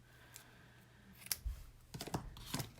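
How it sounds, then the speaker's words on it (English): Scissors snip through ribbon close by in a quiet room, giving a few soft, crisp cuts and clicks in a short cluster near the end. "and then give it a snip."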